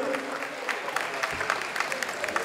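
Applause from a Muay Thai championship audience in Paramaribo for two fighters, a steady patter of many hands clapping at moderate distance with crowd murmur beneath.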